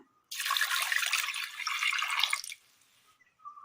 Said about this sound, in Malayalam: വേകുവാൻ ആവശ്യമായ വെള്ളം